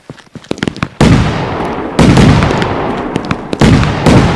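A fireworks shop in the PC game Firework Sim goes up in a chain of loud bursts: sharp crackling pops at first, then three big blasts, each followed by a dense roar of crackle that carries on steadily.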